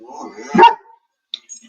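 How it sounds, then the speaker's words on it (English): A pit bull gives a single sharp bark up close, followed by quiet and a couple of faint small sounds. "I hear that bark in my sleep."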